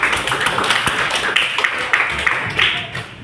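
Students in a classroom clap together at their teacher's prompt, a short burst of steady, close clapping.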